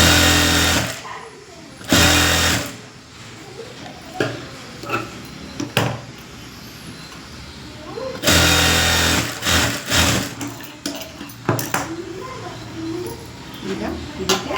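A sewing machine stitches the button strip of a princess-cut blouse in several loud, close bursts of whirring, separated by quieter stretches of cloth handling and light clatter.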